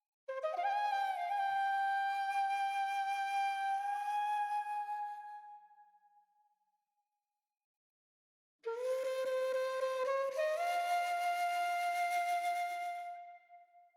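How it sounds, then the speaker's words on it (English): An ethnic flute sample plays two breathy, ornamented phrases with a simple reverb, each held long notes with bends, separated by a few seconds of silence as the first phrase decays away. "Then for the next thing I had this Flute Phrase"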